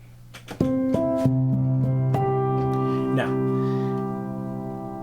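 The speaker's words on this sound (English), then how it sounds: "now, it has some traditional piano sounds," Traditional piano tones from the Piano Colors virtual instrument, played as a few sustained notes that ring out clearly and slowly decay, with no talking.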